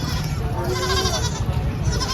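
Goats bleat at a crowded goat market in Meerut, with harmonic cries over a steady din of crowd noise and chatter.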